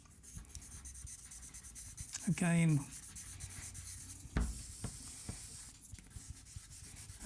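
Pencil sketching on cheap drawing paper, a continuous dry scratching and rubbing of strokes with brief pauses, close up, with one short spoken word.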